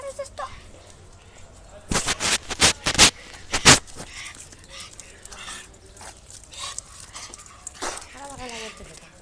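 A small female dog whimpering and panting close by, with a few loud sharp bursts early on and a thin rising whine near the end, while people seem to talk quietly in the background.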